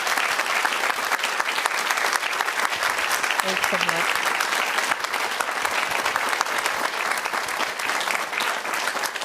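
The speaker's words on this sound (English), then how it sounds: "Let's give them a round of applause." Audience applause fills a large room, a steady, dense wash of clapping running throughout, with a brief spoken thank-you over it.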